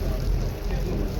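A ferry boat carrying passengers to Gorée island off Dakar, Senegal, heard as a steady low engine and water rumble mixed with wind buffeting the microphone, continuous and fairly close for a brief moment.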